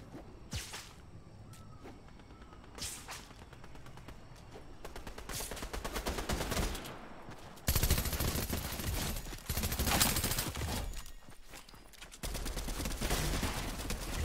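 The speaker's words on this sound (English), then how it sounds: "I'm just gonna go toward the shooting." Fortnite gunfire: repeated shots and rapid bursts, some distant and some closer and louder, cracking in clusters throughout with no talk.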